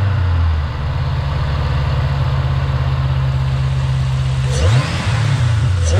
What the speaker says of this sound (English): So I'm going to jump inside, start it, and maybe give it some revs and make sure nothing's leaking out of there.